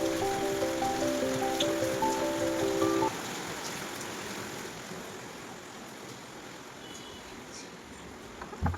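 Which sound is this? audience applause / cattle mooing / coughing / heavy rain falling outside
heavy rain falling outside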